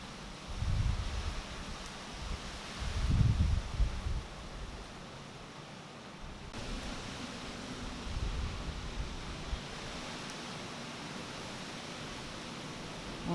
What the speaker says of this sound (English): There you go, there's a good gust.